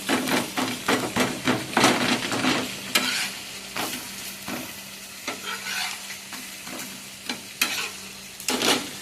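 A spoon stirs masala frying in oil in a pan, giving a steady sizzle with clattering scrapes and knocks against the pan at an uneven pace.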